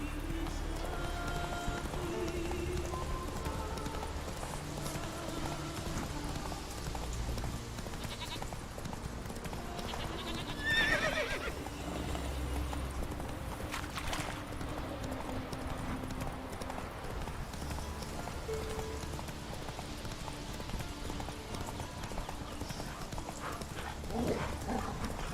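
Roach, the horse in The Witcher 3, gallops at a sustained, fast clip-clop pace for the whole stretch, with steady hoofbeats over game ambience and music.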